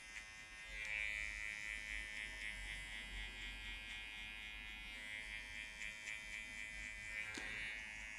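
Electric hair clipper with its blade fully closed buzzes steadily close up while blending a high fade flat top haircut at a barber's chair, a continuous faint hum with small shifts as it moves through the hair.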